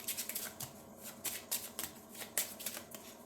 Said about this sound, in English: We're going to shuffle our expedition cards.